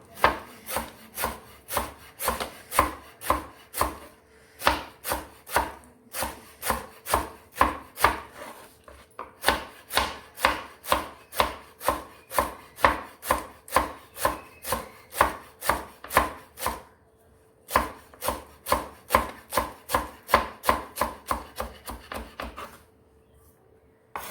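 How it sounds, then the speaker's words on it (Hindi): Knife chopping fresh green coriander on a board, a long run of quick, even cuts with a couple of short pauses, close and clear with no talk. "ये ग्रीन कोरिएंडर जो है इसको भी चॉप कर लेना है गार्निश करने के लिए"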